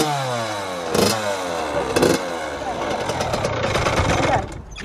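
A Yamaha YZ85 dirt bike engine sputters and revs unevenly, struggling to hold an idle as throttle is fed in, with a couple of louder rev bursts; close and steady throughout.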